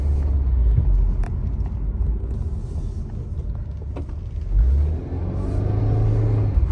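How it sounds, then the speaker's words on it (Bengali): A Subaru WRX all-wheel-drive car's engine rumbles steadily up close, then rises in pitch as it revs near the end. "গাড়িটার সাউন্ডও জোস"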